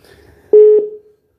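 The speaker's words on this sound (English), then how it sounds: "Let me dial it again." Two short telephone keypad tones sound in quick succession, close and loud, as a number is redialed, then fade out; no talking over them.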